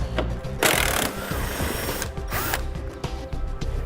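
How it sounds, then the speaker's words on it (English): A ratchet with a 10mm socket works a bolt loose from the front fascia of a 2007 Jeep Liberty, giving rapid clicking and grinding bursts close up, with no talk. "We'll be using a 10mm socket to remove that."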